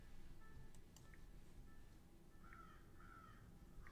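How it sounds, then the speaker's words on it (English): Crows caw in the morning, several short harsh calls scattered over faint steady background noise, distant and quiet, no talk. "The crows are starting to wake up."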